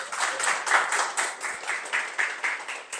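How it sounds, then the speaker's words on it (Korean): An audience gives a lecture speaker a round of applause, with dense clapping in steady rhythmic waves at moderate volume and no talking over it. "큰 박수 부탁드립니다"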